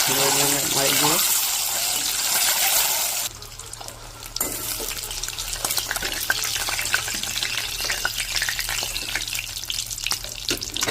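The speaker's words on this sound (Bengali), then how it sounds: "এরকম করে ডিমগুলো সব দিয়ে আমি নেড়ে দেবো ভালো করে" Eggs stirred into masala paste in a pan for a village-style Bengali egg curry, a loud sizzling crackle that drops and then continues with busy clattering stirs, a voice talking at the start.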